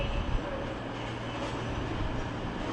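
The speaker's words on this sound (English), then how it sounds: "We've got two trains coming in side by side" Two trains, one a class 323 and one a four-car cross-country Voyager, rumbling into Manchester Piccadilly station side by side; a steady low rail drone with some hiss fills the whole stretch.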